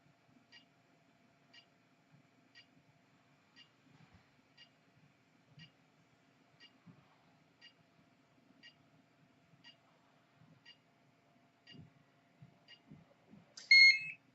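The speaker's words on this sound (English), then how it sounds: "That's why the transmitter is beeping away." A faint, steady electronic beep from a SkyViper GPS drone transmitter during a firmware upload repeats about every second and a half over a quiet background, with a brief louder chirp near the end.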